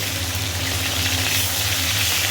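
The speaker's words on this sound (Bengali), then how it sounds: "মাছ ভাজতে বসিয়ে দিয়েছি" Fish frying in a kitchen pan gives a steady, close sizzle with a low hum beneath, unbroken and fairly loud for the whole stretch.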